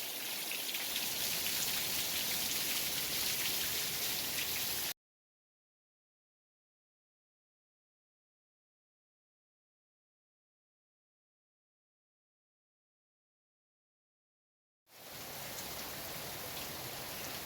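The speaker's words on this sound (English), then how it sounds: "It has been raining off and on" Steady rain falls in a backyard in Phoenix, a dense, even hiss of drops on surfaces that cuts out into total silence for about ten seconds before resuming just as steadily.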